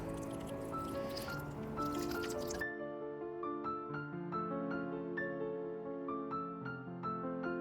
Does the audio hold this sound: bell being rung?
no